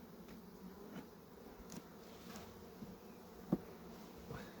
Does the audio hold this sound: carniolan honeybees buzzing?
yes